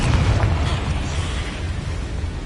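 Confringo fire spell blasting a spider in Hogwarts Legacy, a loud close explosive burst with a deep rumbling body that tails off over a couple of seconds, alone without voices.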